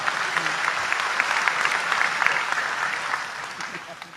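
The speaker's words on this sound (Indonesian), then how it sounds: "Tepuk tangan untuk beliau" Steady applause from an audience fills the moment, continuous clapping at moderate loudness with a voice or two mixed in.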